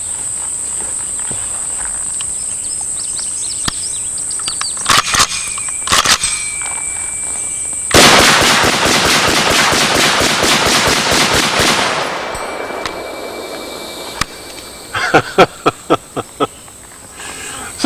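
Target shooting outdoors: a long rapid burst of gunfire from a belt-fed gun, then a few separate loud shots near the end, with quieter pops and crackles between and a steady high hiss underneath.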